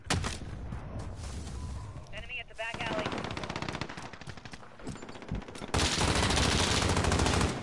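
Rapid automatic gunfire from Call of Duty Modern Warfare, with dense sustained bursts of shots that loudly fill most of the clip and a heavier spray near the end.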